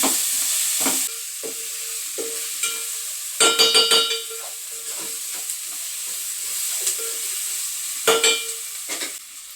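Sliced onions with turmeric and a little salt fry in a pan with a steady sizzle, broken by bursts of louder crackling and metal spoon scrapes as they are stirred.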